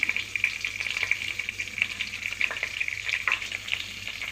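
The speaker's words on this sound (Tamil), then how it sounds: "அந்த பட்டக்கிராமி ஏலக்காய் போட்டிருக்கிறது அப்படியே லைட்டாக சூடானா போதும்" Whole cinnamon, cloves and cardamom fry in hot oil, giving a steady close sizzle dotted with small pops and crackles.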